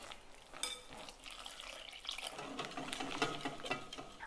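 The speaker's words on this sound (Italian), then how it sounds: "nel frattempo mescoliamo con la frusta per sciogliere i grumi" A whisk stirs rice flour batter as water is gradually mixed in, making wet, irregular scraping and sloshing sounds against the bowl, close and moderately quiet.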